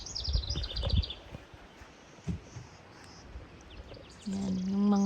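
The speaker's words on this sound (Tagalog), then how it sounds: "huni ng ibon ang ating naririnig" Birds chirping and calling at a campsite in Saskatchewan in the morning, with scattered high-pitched calls near the start and a sustained tonal song near the end over quiet outdoor ambience.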